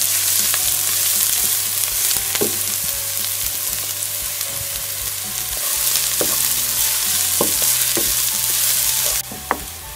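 Finely chopped onion frying in a pan, a loud continuous sizzle with intermittent clinks and scrapes of a spoon stirring, with a low steady hum beneath and no voices.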